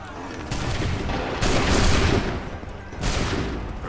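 Musket volleys fired by soldiers in Assassin's Creed III, three broad crackling blasts spaced about a second and a half apart, each rolling into a noisy decay, loud and somewhat distant-sounding.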